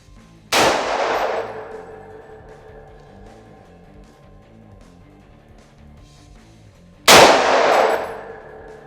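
Two loud, sharp metallic impacts of precision rifle rounds striking a steel target, spaced about six seconds apart, each a bright ringing clang that decays slowly, with no talk.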